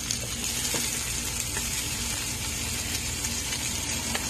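Chayote pieces sizzle steadily in a hot pan, with a loud, continuous frying hiss and faint crackles and no voices.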